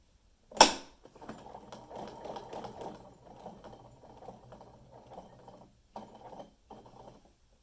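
A sewing machine stitches quilt binding in several bursts of rapid mechanical whirring with short pauses between them, led off by one sharp click. It sounds close and moderately quiet.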